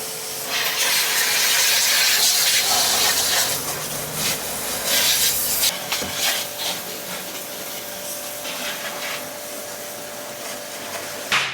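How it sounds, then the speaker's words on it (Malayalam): A STARQ AWP 2.8 2800-watt high-pressure washer sprays a car with a loud forceful hiss that fades somewhat midway, continuing as a steadier spraying rush with a faint whine. "നമുക്ക് ജസ്റ്റ് ഇനി കാറിലൊന്ന് അടിച്ചു നോക്കാം"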